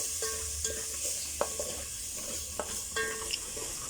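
Tomatoes frying in a pan while cooking matoke, a soft steady sizzle broken by several clinks and scrapes of a utensil stirring against the pan, close and loud.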